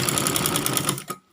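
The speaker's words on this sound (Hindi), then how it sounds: "एक एक पैर की हम सिलाई लगाते जाएंगे।" A sewing machine stitches a kurti in a quick, rhythmic burst of needle strokes, close and fairly loud, stopping abruptly after about a second.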